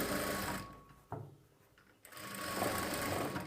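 A sewing machine stitches a straight seam with a loud, fast mechanical whir up close; it slows and nearly stops for about a second before running at full speed again.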